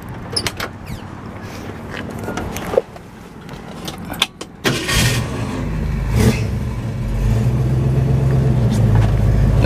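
A 1964 Ford Falcon Futura two-door hardtop with automatic transmission: a few clicks and clunks, then the engine cranks and catches midway and settles into a steady, close idle that continues to the end.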